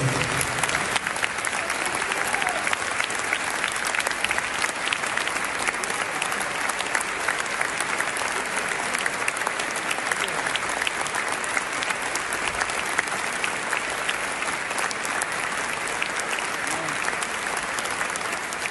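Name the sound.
applause in tribute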